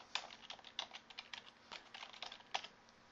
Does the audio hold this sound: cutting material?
no